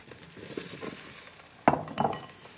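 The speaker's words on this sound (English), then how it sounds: "Hear the sizzle?" Potatoes hit a very hot baking sheet bound for a 450 degree oven, giving a sudden loud sizzle after a soft stretch of kitchen handling noise, followed by a second burst of crackling frying hiss.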